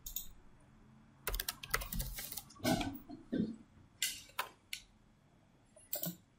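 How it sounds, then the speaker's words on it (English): Irregular bursts of keyboard typing, clicks clustered in quick runs with short pauses, fairly close and moderately loud. "we are just typing in"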